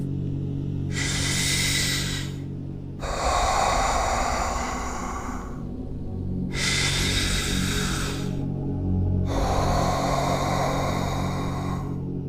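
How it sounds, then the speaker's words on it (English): Long, deep breaths, taken slowly to calm the mind and body: four broad rushes of airy breath a few seconds each, separated by brief quiet gaps, over a low steady background rumble. "So, take a deep breath."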